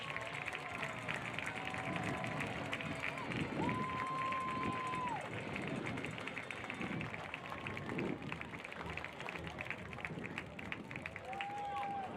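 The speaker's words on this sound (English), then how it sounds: "Please give a round of applause for these incredible teams in appreciation for what they have accomplished" A stadium crowd at a high school football game applauds and cheers for state championship teams, a steady wash of clapping and crowd noise heard from a distance, with brief whistle-like tones rising above it.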